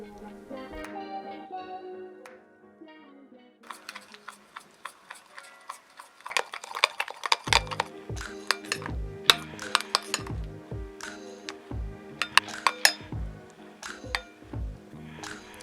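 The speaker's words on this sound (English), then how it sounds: "just begin to stir and mix everything together" Clinking and scraping as a thick natural hair product is stirred and mixed in a container, irregular close taps and clicks over a background of soft music.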